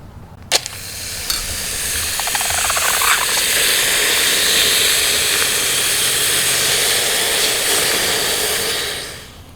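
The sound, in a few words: hot melted copper quenched in ice bath, hissing steam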